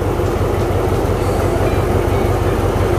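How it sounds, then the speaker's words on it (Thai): An Alstom locomotive stands at the platform at Bang Sue Junction, its steady loud rumble and low engine drone running continuously without a break. "รถที่จอดอยู่นะอัลสตอม"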